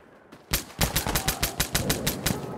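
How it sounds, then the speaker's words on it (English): Gunfire in the video game Insurgency Sandstorm, a sharp burst of rapid repeated shots in quick rhythm, loud and close, with no talk over it. "Shotgun."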